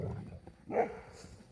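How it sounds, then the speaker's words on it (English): A brief dog bark or yip, close by, over faint background noise, as dogs react to a vacuum cleaner running in a gazebo. "The vacuum's running in the gazebo and the dogs take exception."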